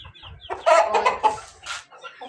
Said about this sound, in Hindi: बाकी अभी चूजे अपने फुल ग्रोथ वाले मूड में हैं